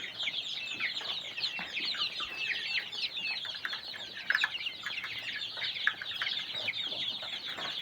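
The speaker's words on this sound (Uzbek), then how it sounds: "Xullas endi hali bu jo'jalar yosh." Young chicks chirp and peep continuously as a dense chorus of high, overlapping calls, moderately close and steady throughout.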